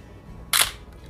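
A single sharp, bright mechanical snap of a Topcon Unirex 35mm film SLR's metal shutter, loud and close, in an otherwise quiet room.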